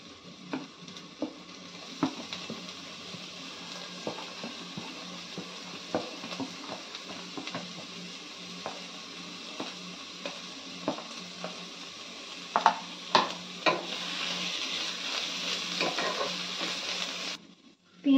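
Grated ginger and garlic frying with browned onions for mutton rezala, a steady hissing sizzle that swells louder toward the end, dotted with regular light taps of a stirring spoon against the pan, nearby with no voices.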